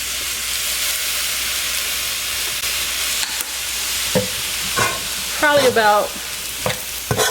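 Soy sauce hits a hot pan of chicken fried rice made with brown rice, giving a steady, loud sizzling hiss. Scraping stirring clinks grow more frequent toward the end.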